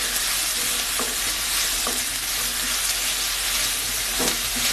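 Paste from one medium onion fries in a pan for a potato prawn curry, giving a loud, close, continuous sizzle and hiss with a few clinks of a spoon and no talk.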